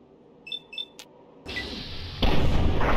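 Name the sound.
explosions in the video game Fallout 3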